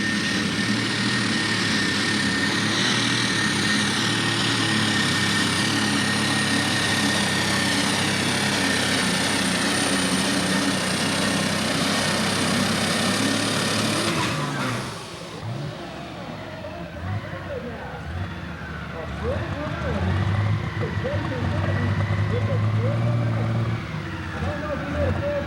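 Super stock pulling tractor running alcohol with three turbochargers at a 1995 Madisonville, Kentucky 6,000 lb pull, a loud sustained engine roar with turbo whine that cuts out midway, then quieter engine and crowd sounds.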